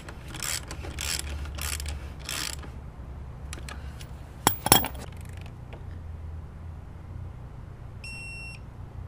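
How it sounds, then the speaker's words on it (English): A hand ratchet run up on a motorcycle front axle during a brake rotor job, giving a few bursts of quick clicking, then a sharp metallic clack and scattered small tool sounds, fairly close with no talk. "I'm just gonna run it in with my ratchet and then switch to my torque wrench"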